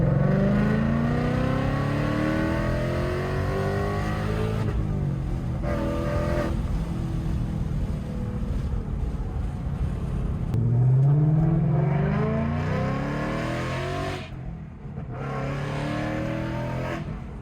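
A Subaru WRX STI engine and exhaust rumble loudly from inside the car, revving up and down repeatedly, with brief lulls between accelerations.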